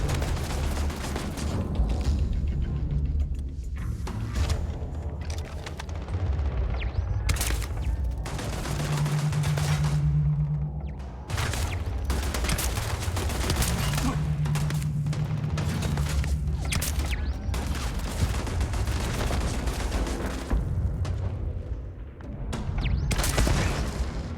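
Turret gunfire fills a firefight in the Starfield video game, with dense, sustained bursts of shots and booming impacts that rattle on almost without pause, loud and close.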